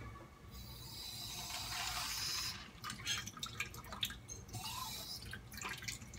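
Tap water runs into a microwave cheese-sauce food container up to its fill line, a steady close hiss of filling that breaks into splashy drips and trickles, with no talking.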